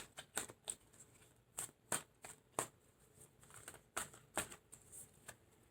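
Tarot cards shuffled in short bursts, a run of crisp, separate riffles and slaps close by, with quiet pauses between them and no voices.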